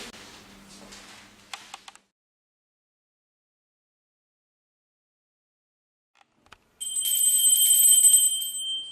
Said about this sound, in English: The doorbell's ringing.